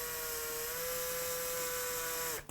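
A power drill whines with a steady high-pitched motor tone while boring holes in plywood for a turntable mount, close and continuous for about two seconds before spinning down abruptly.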